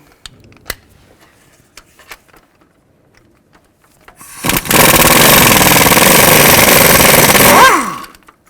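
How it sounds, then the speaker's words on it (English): A power tool runs loud and steady for about three seconds, removing the 13mm exhaust manifold bolts on a 2000-06 Chevy Tahoe, after a few faint clicks and knocks; it then winds down. "Now you're going to take these bolts out, use a 13mm socket, and there should be 6 of them."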